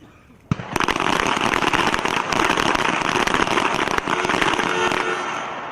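Pistol shots from a two-handed standing team pistol match at the U.S. Army Small Arms Championships, a dense rapid volley of overlapping cracks from several shooters, loud and continuous for about five seconds.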